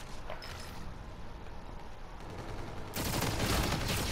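Rapid gunfire from Call of Duty: Infinite Warfare, using a new DLC weapon, the X-Eon, rattles on steadily and grows louder and denser in the final second.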